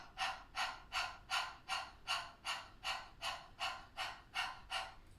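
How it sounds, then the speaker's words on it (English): Forceful rhythmic breaths pushed through a rounded O-shaped mouth during a Kundalini yoga cannon breath exercise, about eleven evenly paced, loud, breathy puffs over five seconds with no talking. "Cannon breath, as a reminder, is breath of fire, except it's actually through the mouth"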